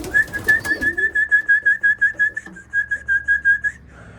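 Racing pigeons in a loft call over and over, a steady, loud, close series of about fifteen pulsed coos or whistle-like notes that ends abruptly.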